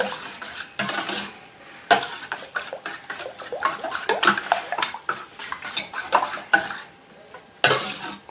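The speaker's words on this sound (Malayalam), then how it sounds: "നമുക്ക് ഒന്ന് മിക്സ് ചെയ്തെടുക്കാം" Egg 65 ingredients being stirred together in a bowl, with repeated scraping and clinking of a utensil against the bowl sides in uneven bursts, close and moderately loud, no talk.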